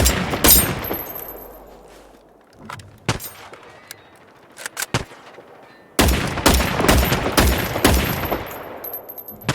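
Gunfire in the Generation Zero video game: loud, sharp shots and rapid bursts that ring out and decay, with a quieter stretch of scattered single shots before dense firing resumes.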